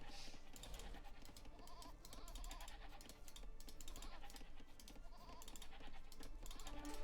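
Sheep bleat repeatedly in a strategy video game as a player explores the map edges, with steady game sounds and soft keyboard clicks continuing underneath.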